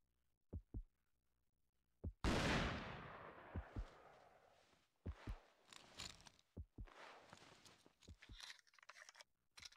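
A rifle shot cracks in Cabela's Outdoor Adventures, one sharp loud blast with a long decaying echo, set among quieter thuds and footstep-like knocks in a mostly quiet scene.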